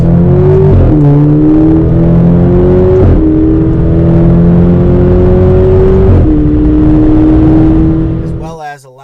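Alfa Romeo Giulia 2.0T engine with a catless downpipe, loud and close, holding steady revs through several gear shifts with a droning exhaust note that fades away at the end.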